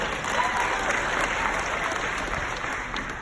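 An audience at a justice conference in Atlanta claps together in sustained, even applause for a speaker, a dense wash of hand claps heard from within the hall.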